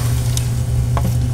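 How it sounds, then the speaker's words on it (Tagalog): Second coconut milk pouring into a hot cooking pot for chicken feet and green papaya in coconut milk, giving a steady loud sizzling bubble with a couple of brief splashes, close by and without talk. "Ilagay na po natin itong ating pangalawang gata."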